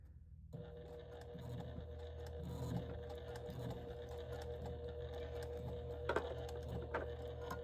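Sewing machine stitching slowly through thick layers of batik canvas and cotton on an organizer, a steady mechanical hum with rhythmic needle clatter, close and fairly quiet.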